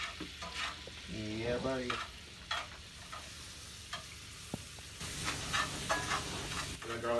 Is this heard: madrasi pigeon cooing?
no